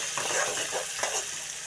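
Tomatoes fry in a pan and are stirred, giving a continuous close sizzle with soft scraping strokes that rise and fall as the spoon moves. No one speaks.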